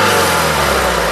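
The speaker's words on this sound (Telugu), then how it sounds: "ఇంజన్ స్టార్ట్ చేయ ఒకసారి. సింగిల్ సెల్ఫ్లో కార్ స్టార్ట్ అవుతుంది" A 2017 Honda Amaze SX car engine runs close and loud, holding a steady, even drone throughout with no pauses.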